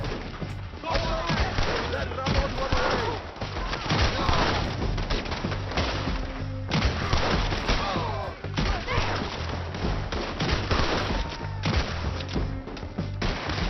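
Gunfire crackles through a Red Dead Redemption 2 shootout, with repeated sharp shots and thumps over a continuous game soundscape, fairly loud and dense throughout.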